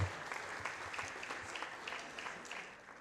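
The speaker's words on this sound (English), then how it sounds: "Please give them a big applause" Students and guests at a national school debate final applaud the finalist teams with steady, moderately quiet clapping from a sizeable hall crowd that fades slightly toward the end.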